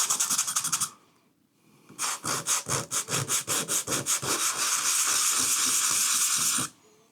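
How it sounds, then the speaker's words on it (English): Rhythmic back-and-forth scrubbing of 320 grit orbital sandpaper rubbed by hand over a wooden bowl, a burst, a pause, then a long run of steady close strokes. "So just going to start sanding. This is 320 grit orbital sandpaper."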